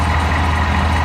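A low-RPM 250 PNG generator engine runs at 1100 rpm, giving a loud, steady, close-up droning rumble with an even hum throughout and no voices.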